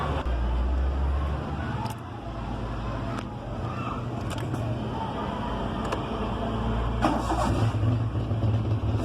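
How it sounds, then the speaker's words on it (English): A car engine turns over and runs after new spark plugs are fitted, a loud steady low rumble with a few sharp clicks and a slight rise in revs near the end. "after installation of these spark plugs, we will start this engine"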